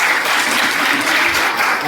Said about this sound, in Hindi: एक बार जोरदार ताली से वंदना अभिनंदन कीजिए